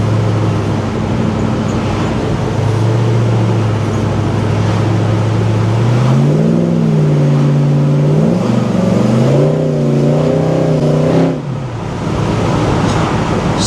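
Pro-touring 1971 Pontiac GTO with a 525 hp LS3 V8 and cast headers, on the road, engine droning steadily then revving up through rising and falling pitch sweeps before lifting off, loud and close with no talk.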